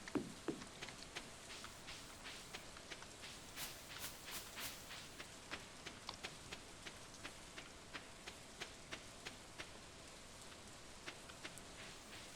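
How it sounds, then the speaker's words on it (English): Rain falls in Stardew Valley, a soft, even patter under a light ticking of regular footstep-like taps, quiet and steady throughout. "It's currently raining in my game."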